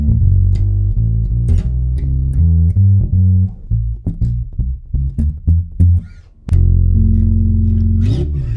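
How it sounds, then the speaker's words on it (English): A bass line of steady plucked notes walks along with a regular pulse, loud and close, with a brief dip near the end before it resumes. "As we play a walking bass line, we're actually outlining the chords."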